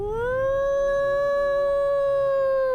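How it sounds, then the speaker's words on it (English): During a dark-fantasy tabletop roleplaying session set in Barovia, a single long, loud howl rises and then holds steady for nearly three seconds, heard alone with no talk. "and the howls begin."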